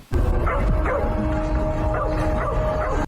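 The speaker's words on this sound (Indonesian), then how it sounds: "Anjing peliharaan keluarga Platt menggonggong dengan keras ketika melihat cahaya datang." A family's pet dog barks loudly at night, a steady run of sharp, close barks and yips over a continuous background hum, with no talk.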